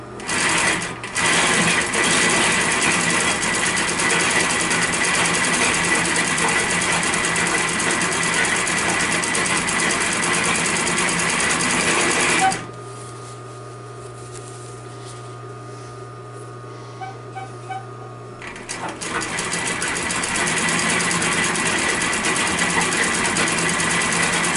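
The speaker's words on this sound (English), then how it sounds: "this is not a walking foot machine, it is a walking needle machine" A walking needle sewing machine stitches upholstery for a 1951 Studebaker seat, running as a loud, rapid continuous whir, stopping for several seconds mid-way, then starting up and stitching again.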